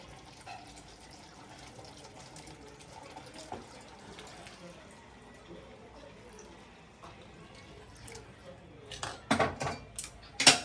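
Water added a little at a time to a pan of fish curry on a gas stove gives soft pouring and faint pot clinks, then louder splashing bursts near the end.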